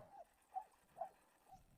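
An agitated chained dog lets out a few faint, short whining yips at intervals, distant and quiet in an otherwise hushed space.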